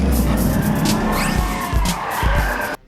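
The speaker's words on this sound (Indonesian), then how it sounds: "si ayah memberi contoh bawa mobil yang laki banget" A car driven aggressively, engine roaring loud and close with a brief tyre-squeal skid, continuous noise cutting off abruptly at the end.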